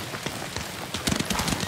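A horse gallops in the Ghost of Tsushima video game, fast rhythmic hoofbeats thudding close by, fairly faint and growing busier near the end, with no talk.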